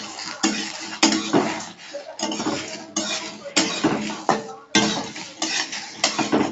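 Metal spoon scraping and clinking in a pan as whole potol masala fries, irregular bursts of stirring with sizzling between strokes, close and fairly loud, no talk.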